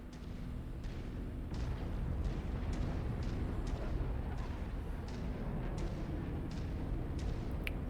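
MechWarrior 5 video game weapons fire, a dense barrage of rumbling booms and sharp repeated impacts layered over continuous heavy low roar, steady and loud throughout.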